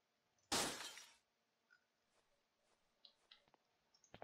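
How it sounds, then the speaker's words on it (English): A single loud crash of a block being smashed in a video game, sharp and brief, then quiet small clicks and blips from the game. "Makes a hell of a smashing sound."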